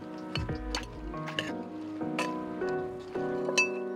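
Thai fruit salad is tossed and pounded in a bowl, giving a run of close clinks, light knocks and wet squishes at an uneven rhythm, with no one talking.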